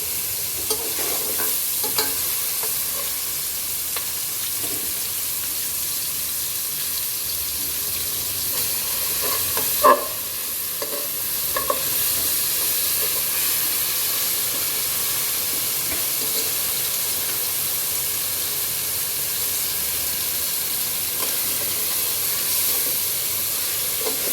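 Garlic sizzling steadily in hot oil for a Bengali rui fish curry with potatoes, with a spoon stirring and scraping the pan now and then, a couple of sharper clacks near the middle; no talk.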